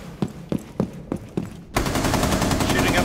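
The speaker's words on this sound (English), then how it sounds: "Shooting up the bathroom now." Gunfire in the tactical shooter Rainbow Six Siege: five sharp single shots at a steady pace, then a loud, dense sustained burst of automatic fire that fills the rest of the moment.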